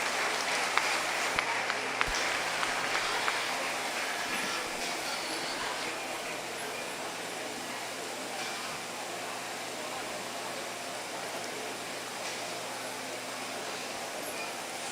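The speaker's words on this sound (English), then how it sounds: "give all these champions and reserves a big round of applause" Audience applause at a 4-H swine show in Allen County, a continuous dense patter of clapping from an indoor crowd, steady and moderately loud for the whole stretch with a few sharper claps early on.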